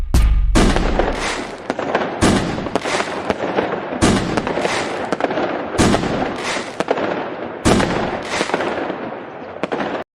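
Dense New Year fireworks and firecrackers bursting at midnight, loud cracking volleys roughly every one to two seconds with continuous crackle between, no talk.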